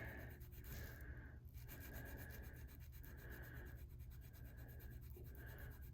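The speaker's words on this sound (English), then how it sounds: "Just let the abrasive do its work." Abrasive sponge scrubbing an estate pipe during cleanup, a steady close rasping rub in repeated strokes with brief pauses, no talking.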